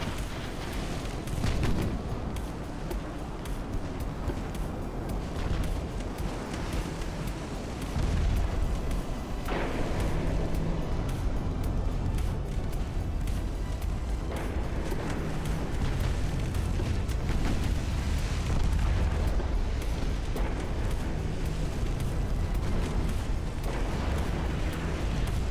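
Torpedo hits explode against a warship in the naval battle game Ultimate Admiral: Dreadnoughts: loud, continuous booming and rumbling blasts with layered gunfire fill the whole stretch, no voices.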